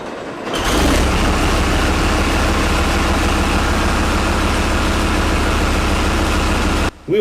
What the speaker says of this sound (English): Starting up the Australian Armour and Artillery Museum's Leopard tank.